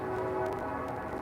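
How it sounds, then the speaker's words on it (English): A train horn blows in a steady, sustained tone for the whole moment, moderately distant and fairly quiet, with no one talking over it. "that train honk for confirmation"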